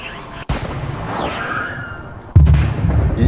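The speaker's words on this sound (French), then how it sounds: "L'explosion est super bien faite, je trouve. Le son aussi." AI-generated missile explosion sound, a sharp boom followed by a rumbling roar, then a second heavy blast with a low, sustained rumble, loud and close.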